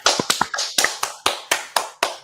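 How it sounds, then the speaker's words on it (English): About ten sharp, close claps ring out in a quick, steady rhythm, each one crisp and distinct with brief gaps between them. "Everybody clap"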